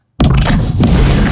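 A designed explosion for a Warhammer 40,000 sci-fi scene hits abruptly after a brief silence, a loud, heavy boom that pulses rhythmically rather than sustaining as one blast.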